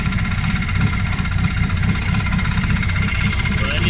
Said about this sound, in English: There's still a noise on the motor.